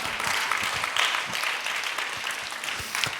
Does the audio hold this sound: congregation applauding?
yes